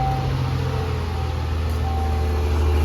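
A 1988 Oldsmobile Cutlass Ciera engine idles steadily after a fuel pump replacement, a constant low rumble with a faint whine, close and continuous with no talk.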